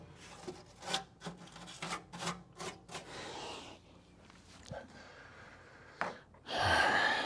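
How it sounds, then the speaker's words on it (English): Wire brush scrubbing grime and undercoating off bolt threads during a Crew Cab Charger restoration: a series of quick rasping strokes, close and moderately loud, then a pause and a louder burst of scrubbing at the end. "going to use a wire brush on the inside to get at the threads"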